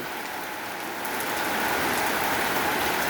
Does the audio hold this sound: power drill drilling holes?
no